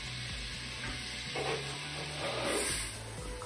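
Butter sizzling and frying in a hot pan, a steady close crackle and hiss with faint stirring scrapes through the whole stretch and nobody speaking.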